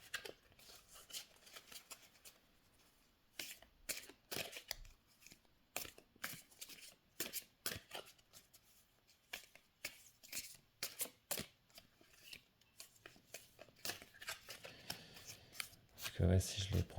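Large oracle cards are shuffled by hand, giving repeated crisp papery riffles and slaps in uneven bursts, close and fairly quiet, with a person speaking in between.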